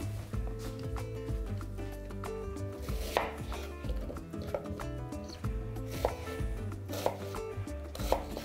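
Two small onions are finely chopped with a knife on a board, a quick run of close, crisp taps with a few louder strikes, heard alone without talk.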